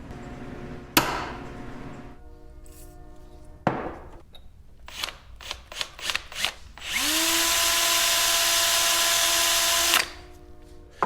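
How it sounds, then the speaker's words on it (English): A power drill with a metal bit drills out a bolt on a Honda 400EX ATV: a few sharp knocks and clicks, then one steady, loud whining run of about three seconds that stops abruptly. "I'm supposed to punch that and then drill it out a little bit."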